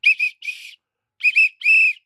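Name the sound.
whistle blown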